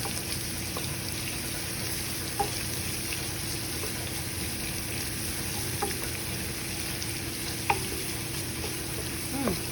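Garlic frying in a pan toward golden brown while being stirred, a steady close sizzle with a few light clicks of the stirring utensil scattered through.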